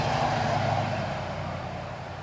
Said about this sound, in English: And a noisy truck going by.